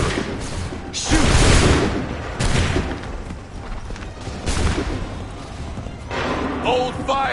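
Musket volleys in Assassin's Creed 3 come as several loud, ragged bursts of crackling gunfire, with shouted commands and battle noise around them.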